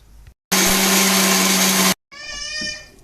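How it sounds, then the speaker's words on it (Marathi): A kitchen mixer grinder grinds roasted coconut masala in one loud, steady burst of about one and a half seconds, stopping abruptly, with quieter kitchen sounds and a short whine after it. "आता मी मसाला वाटून घेते।"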